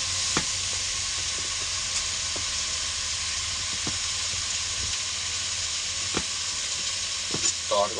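Amaranth leaves fry with onions and green chilies in a pan, giving a steady close sizzle and hiss broken by a few clicks and scrapes of stirring.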